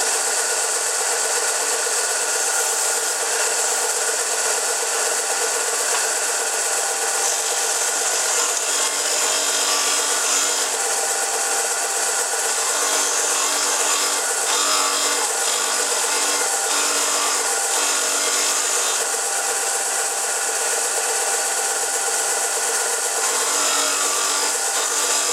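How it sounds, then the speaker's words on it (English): A sander runs steadily against a wooden pen blank spinning on a lathe, giving a loud, continuous whirring, abrasive hiss with a faint shift in pitch partway through. "I can just use my sander. I'll just clean it off first."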